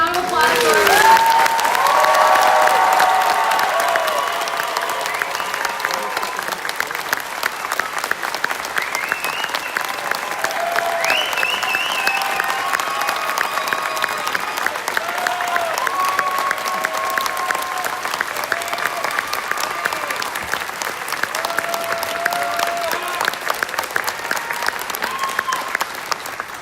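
Sustained applause from an audience at a university graduation ceremony, loud and continuous with dense clapping throughout, a few faint cheers and murmuring voices underneath.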